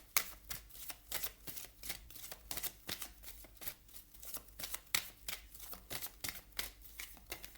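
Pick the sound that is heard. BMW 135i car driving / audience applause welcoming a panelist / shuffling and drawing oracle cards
shuffling and drawing oracle cards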